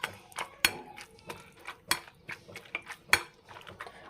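Roasted eggplant for baingan bharta being mashed with a metal utensil in a pan, a series of sharp clinks and scrapes at irregular intervals, close and fairly quiet.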